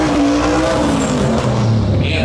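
Mitsubishi Evo 10 race car making a timed run at the TX2K18 event, a loud engine roar with pitch sweeps under crowd and ambient noise, with a tire squeal near the end.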